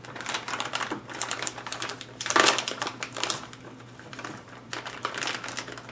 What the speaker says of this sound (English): I didn't come prepared for opening packages.